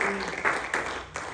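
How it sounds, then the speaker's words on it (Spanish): A church congregation claps for the Lord together in a worship service, a dense, steady burst of applause that fills the room with a few louder swells and faint voices under it. "Dele fuerte palmas al Señor."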